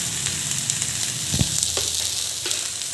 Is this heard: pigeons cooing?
no